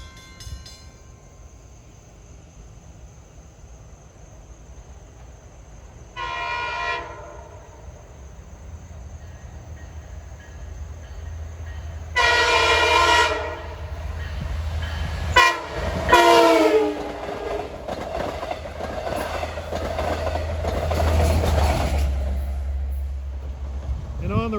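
A passenger train rumbles nearby while its horn sounds in several long blasts at a road crossing, growing louder and harsher as it approaches, with rolling wheel noise underneath.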